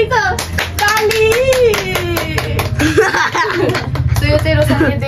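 Hands clap in a quick, steady patter during a birthday gift unboxing at home with a mother, mostly under lively nearby talk and some chuckling.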